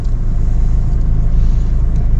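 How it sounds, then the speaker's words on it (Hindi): Toyota Fortuner being driven, heard from inside as a loud, steady low engine and road rumble with no talking. "अब मैं इस गाड़ी को चलाना शुरू करता हूँ"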